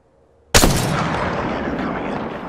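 One loud gunshot-like blast in the Apex Legends video game hits after a short silence and rolls into a long, sustained rumbling roar that fades only slowly.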